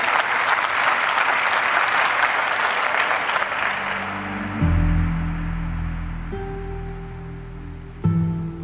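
A crowd at a live music performance breaks into dense, loud applause that fades over several seconds, giving way to sustained synth and bass tones from the stage.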